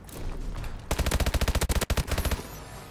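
Rapid automatic gunfire from Call of Duty: Advanced Warfare, a loud sustained burst of evenly spaced shots that starts abruptly after a stretch of muffled game noise, with a brief break partway through.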